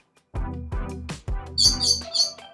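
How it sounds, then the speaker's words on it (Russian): Close, bright chirping bursts from birds in a Portuguese courtyard garden, several short repeated calls near the end, following a few low knocks and thumps, no talk. "И птички поют, и вообще все хорошо."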